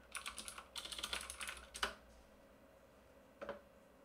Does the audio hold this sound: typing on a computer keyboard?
yes